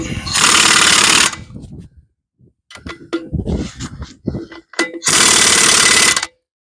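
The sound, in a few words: impact wrench tightening wheel lug nuts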